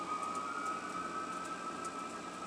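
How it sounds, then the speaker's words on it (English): Emergency vehicle sirens wailing during a smoky day: a steady, distant, sustained high tone held throughout over a soft background hiss, with faint intermittent ticks and no voices. "it's an emergency situation, much as these sirens are indicating right now."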